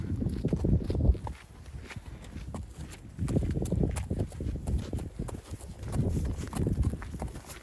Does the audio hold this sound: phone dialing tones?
no